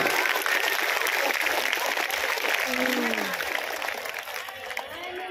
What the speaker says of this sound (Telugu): గట్టిగా చప్పట్లు కొట్టాలమ్మా